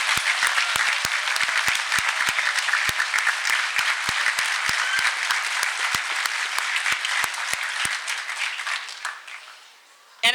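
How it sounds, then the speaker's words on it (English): Graduation ceremony audience applauding at a 2023 university commencement, a long, dense wash of clapping from a large crowd with sharp individual claps standing out, tapering off near the end. "please join me in applauding everyone for their time and effort."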